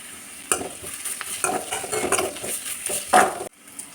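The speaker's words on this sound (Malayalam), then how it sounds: "ഇനി നന്നായിട്ടൊന്ന് വഴറ്റിയെടുക്കണം" Onions and curry leaves being sautéed in a pan: a steady sizzle of frying with repeated close spatula scrapes and clinks against the pan, loud and nearby, ending abruptly.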